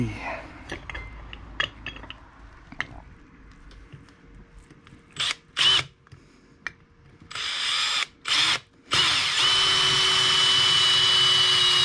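A power drill whirs in several short bursts, then runs loud and steady near the end, with quieter clattering between the bursts, while drilling metal to fabricate an LED light bracket for a snowblower.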